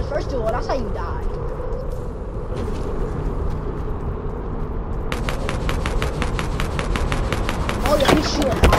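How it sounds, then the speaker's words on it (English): Video game gunfire: steady crackling shots under a player's talking, then a fast, evenly spaced string of sharp, loud reports like an automatic weapon firing near the end. "he's shooting"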